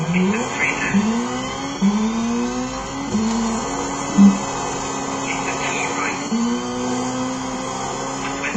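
Rally car engine in Colin McRae Rally 2.0 revs repeatedly, rising in pitch through gear shifts, loud and continuous with a brief bump midway and no talking.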